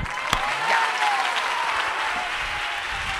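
A church congregation claps together in a short, lively burst of applause that fills the hall at moderate loudness.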